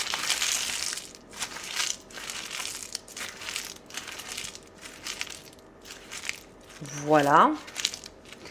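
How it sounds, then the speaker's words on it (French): A sheet of parchment baking paper is crumpled by hand in a home kitchen, giving repeated dry crinkling bursts at close range, with a person talking briefly alongside. "je vais prendre une feuille de papier sulfurisé, de papier cuisson comme ça. Donc je la froisse."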